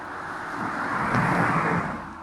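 Car traffic on roads inside the collapsed volcanic caldera near Naples, a steady broad roadway rumble with a vehicle swelling louder as it passes close by midway, then easing slightly.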